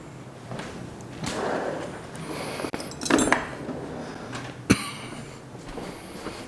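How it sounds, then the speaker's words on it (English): A spoon is grabbed from among kitchen cutlery, giving a few soft clinks and rattles over a quiet kitchen. A sharp knock or thud lands near the end. "I'm going to grab a spoon."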